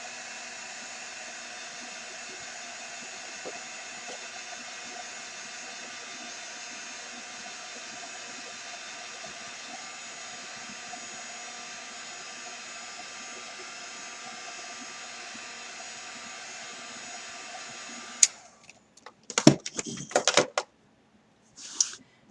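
A heat dryer blows steadily for about eighteen seconds, drying a chalk-painted pumpkin, a constant airy whir close by, then shuts off and is followed by a few sharp handling knocks and clatters.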